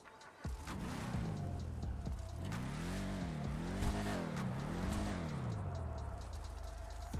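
A car engine in the video game GTA 5 with a real-life mod runs with a throaty exhaust note, its pitch swelling up and down in several revs, steady and fairly close.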